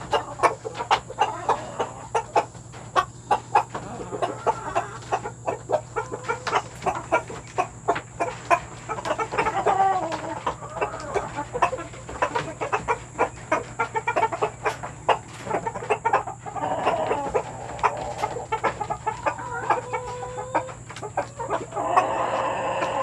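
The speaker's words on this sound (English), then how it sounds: "So my other chickens over here, they are excited about their eggs." Six-week-old Silkie chickens in a backyard coop, clucking and chattering in many quick overlapping calls at close range, a busy continuous flock sound.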